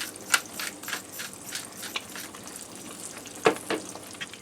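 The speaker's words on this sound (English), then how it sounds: "I'm going to allow them to do their egg thing and fry" Seasoned eggs fry in a hot skillet with a close, steady sizzle, punctuated by a few sharp spits and pops, with no one speaking.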